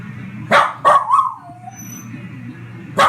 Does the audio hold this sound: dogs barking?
yes